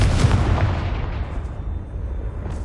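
A Confringo blast spell from Hogwarts Legacy explodes as one loud, deep boom right at the start, its low rumble fading away over about two seconds.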